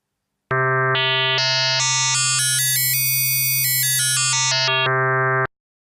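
A single sustained tone from the NI FM8 FM synthesizer holds for about five seconds, its bright, buzzy overtones sweeping upward into shrill high harmonics and then falling back, loud and alone.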